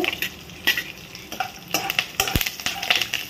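Green chillies, dried red chillies and curry leaves sizzle and crackle in hot oil for mango poha pulihora, with scattered sharp pops and stirring scrapes against the pan, close and uneven.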